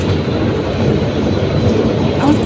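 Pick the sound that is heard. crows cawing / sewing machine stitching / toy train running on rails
toy train running on rails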